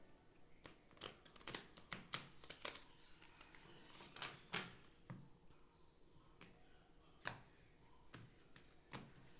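Playing cards being shuffled and riffled, a run of crisp, rapid snapping bursts that come in clusters with short pauses, close to the microphone, with no talking over them.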